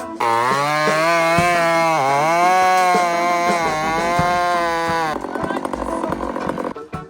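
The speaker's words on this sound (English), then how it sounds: "what I'm going after this filing is a super fast cutting chain" A chainsaw with a freshly filed chain runs close and loud. The engine holds a high, steady whine, then turns rougher and choppier near the end as it bites into wood.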